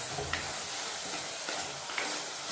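Mustard seeds sizzle in hot oil in a pan for a sardine and mango curry, giving a steady close crackling hiss with a few sharper pops and light stirring sounds.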